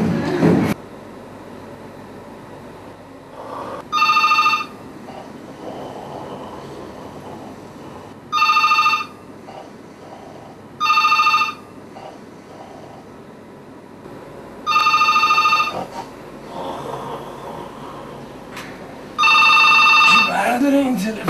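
A telephone rings repeatedly in a hospital setting, sounding six separate bursts of bright, electronic ringing with quiet, murmuring pauses between them.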